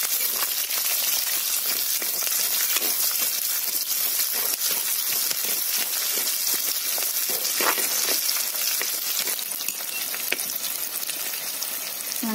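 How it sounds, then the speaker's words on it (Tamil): Chopped onions sautéing in hot oil in a pan for a Tamil scarlet gourd (kovakkai) stir-fry, giving a steady close sizzle with scattered crackles and pops throughout, no talking. "வெங்காயத்தை சேர்த்துட்டு நல்லா வதக்கி விட்டுருங்க"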